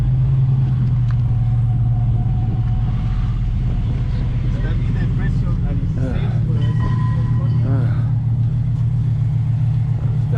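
A classic Pontiac Tempest Le Mans at a swap meet in Moultrie, Georgia, idles with a steady low engine hum and rumble throughout, with someone talking over it.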